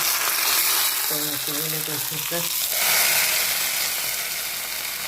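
Curry leaves hit hot oil for a cucumber curry and set off a loud, steady sizzle that spits and crackles throughout, while a voice speaks briefly over it.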